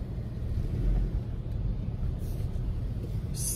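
A car drives along with a low steady engine and road rumble from inside the cabin, moderately loud and even, with no one speaking.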